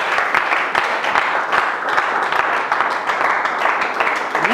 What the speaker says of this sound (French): On acclame très fort pour...